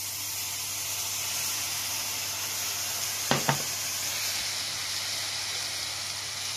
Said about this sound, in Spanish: ahora le vamos a colocar poco a poco nuestra leche infusionada con la hierbabuena